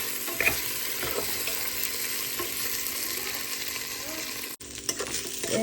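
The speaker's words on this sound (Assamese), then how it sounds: "গেছটো অলপ মিডিয়াম ফ্লেমত দি চাউলখিনি অলপ সময় ভাজি আছোঁ।" Rice fries in a pan over a medium flame while being stirred, a steady sizzle running throughout with scraping and stirring noises, plus a brief dropout near the end.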